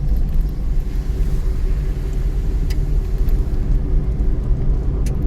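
A car in motion during a driving lesson, heard from inside as a steady, loud low rumble of engine and road noise that runs unbroken from start to finish, with no talking.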